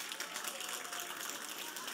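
Congregation at a church service applauding, a steady, fairly faint patter of many hands that carries on evenly for a couple of seconds.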